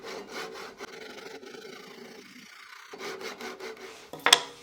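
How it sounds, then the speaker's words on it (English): A Japanese pull saw cuts through a wooden dowel on a reclaimed-wood project, giving a steady run of close rasping strokes that pause midway, resume, and end with a brief sharp snap as the cut finishes. "A Japanese saw will be used to make the cut for a perfect finish."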